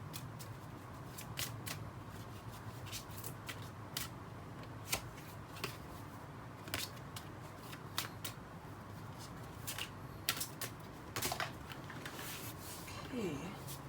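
Tarot-style reading cards being shuffled by hand, a steady run of soft riffling and sharp card flicks close to the microphone over a low background hum, with no talking.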